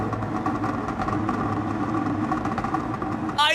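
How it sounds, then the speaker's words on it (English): A Suzuki Jimny fitted with anti-lag, a locking differential and NOS in Gran Turismo 7 drones steadily at a loud, even engine pitch, with a brief high chirp just before the end. "The anti-lag is so sick."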